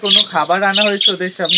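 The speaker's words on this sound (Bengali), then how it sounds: "পেছনে তোমরা পাখির আওয়াজ শুনে বুঝতেই পেরেছো নিশ্চয়ই" Pet budgies, one of them albino, squawk and chirp excitedly at feeding time when a dish of egg and rice is set out, their shrill calls mixing with a person talking close by.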